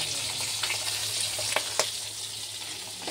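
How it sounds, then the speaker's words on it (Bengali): Rohu fish fries in a pan with a close, even sizzle throughout, marked by a few sharp pops or utensil taps. "রুই মাছ ভাজা করছি"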